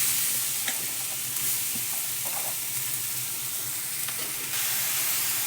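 Carrots for carrot halwa sizzle steadily in hot refined oil with bay leaf while being stirred, a continuous close frying hiss with occasional scraping, and no talking.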